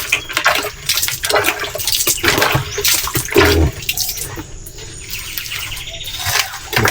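Water running and splashing steadily while a native chicken is rinsed, a continuous close gush with bird chirps in the background.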